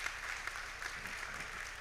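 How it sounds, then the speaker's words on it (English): An audience at a lecture event applauds with continuous, even clapping from many hands, moderately distant and fairly soft throughout. "Round of applause, people."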